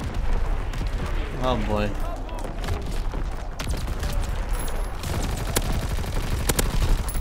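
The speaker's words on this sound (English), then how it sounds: "Incoming enemy artillery, get to cover." Incoming enemy artillery and gunfire in Call of Duty WWII team deathmatch, with dense crackling shots, booming explosions and sharp bursts throughout, while a player speaks briefly over the chaos.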